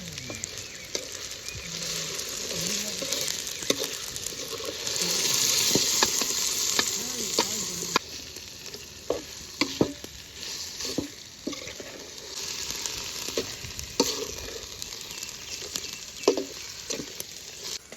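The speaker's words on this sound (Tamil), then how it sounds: "நல்லா வதங்குறதுக்கு வெயிட் பண்ணலாம்" Chicken liver sautéing with mint in a pan in a village kitchen, with a steady loud sizzle and frying patter and occasional stirring scrapes and taps throughout.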